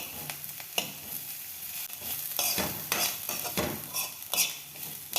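Chopped onion, coriander and curry leaves fry in a pan at home with a steady sizzle, broken by repeated scraping stirs of a spoon against the pan, close and moderately loud, with no one talking.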